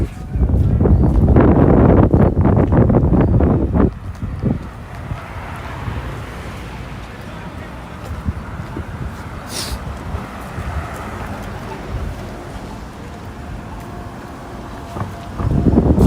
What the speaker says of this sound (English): Now we're walking right into a wind.